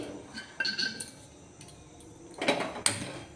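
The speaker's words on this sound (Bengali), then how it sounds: "এবার কড়াটা বসিয়ে দিচ্ছি" A metal wok (kadai) is set down on a stove, giving several light clinks and knocks of metal against metal, faint and close, with a louder clank near the end.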